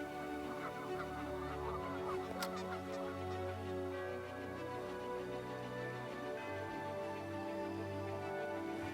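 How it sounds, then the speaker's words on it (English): Geese honking and chattering continuously near a lake where walleye are being fished, a busy flock calling over and over with dense overlapping honks. "these geese are something, huh? They are just a-talking."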